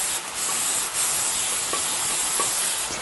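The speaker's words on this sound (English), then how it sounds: "I'm going to spray it lightly." Cooking spray hisses lightly onto a 9x13 glass baking pan, a soft airy spray lasting about three seconds with brief pauses, close up and fairly quiet.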